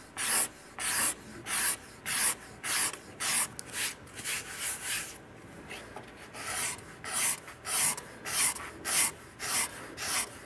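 A steel scraper is drawn across the wooden top of an archtop guitar in steady repeated strokes, each a bright rasping scrape with brief pauses between, close and clear with no talking.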